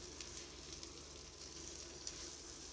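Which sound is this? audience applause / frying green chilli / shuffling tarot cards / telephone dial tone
frying green chilli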